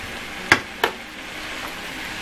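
Zucchini and bell pepper with feta fry and simmer in a pan, giving a continuous soft sizzle punctuated by two sharp utensil clacks close together.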